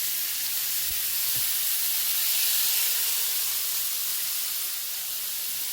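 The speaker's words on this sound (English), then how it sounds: "because it's a sizzling chicken recipe, that's why the smoke is coming, and the olive oil and the peppers that we added" Chicken with sweet and hot peppers sizzles in olive oil, a steady, close hiss of frying that runs unbroken and fairly loud throughout.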